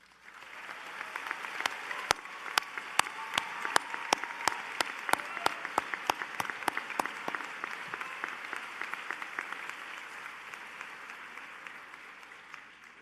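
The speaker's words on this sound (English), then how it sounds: "one more big round of applause for all of our Pharm.D, Ph.D, and Master's graduates" An audience at a pharmacy school graduation and hooding ceremony for the class of 2022 gives a big round of applause. Steady, dense clapping with sharp individual claps carries on for over ten seconds, then slowly tapers.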